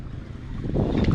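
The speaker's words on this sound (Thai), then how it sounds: "ลมแรง" Strong wind rushes over a boat out on open water, a brief steady roar of low buffeting noise that swells slightly toward the end, with no voices.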